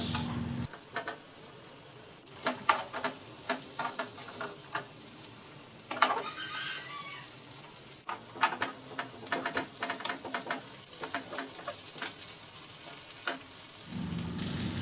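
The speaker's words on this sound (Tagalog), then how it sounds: "Ibalik ko na yung piniritong bangus. Siguraduhin mo lang din na makoat siya ng sauce para lalong masarap." Fried milkfish (bangus) sizzles in a butter garlic sauce in a pan, with the sound of stirring, scraping utensil clicks and bubbling at close range throughout.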